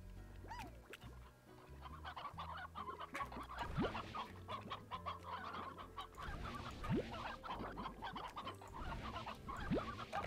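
Chickens cluck and squawk through a stretch of Slime Rancher gameplay, with busy overlapping bird calls and game sounds running steadily, fairly loud, with no talking.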